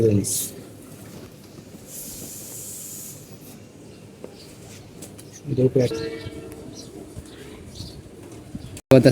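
Large pet pigeons coo in low, rolling murmurs at close range over a steady background hiss, with a voice heard faintly at times.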